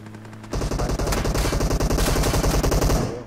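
A sustained burst of rapid automatic gunfire in a video game rattles loudly for about three seconds, with a softer background tone before it starts.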